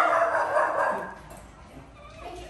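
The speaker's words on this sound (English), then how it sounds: "He's a good dog." A dog barks and yips excitedly at close range, loud at first and then trailing off into quieter whimpering.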